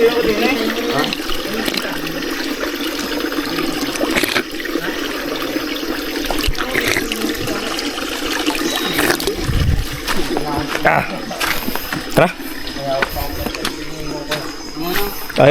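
Cold mountain spring water runs steadily on Mount Gerizim, a constant splashing flow, with people talking and laughing over it.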